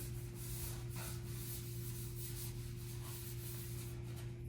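A scrunched tack cloth rubs over a primed car panel before spray painting, giving soft repeated swishing strokes close by over a steady low electrical hum, with no talking.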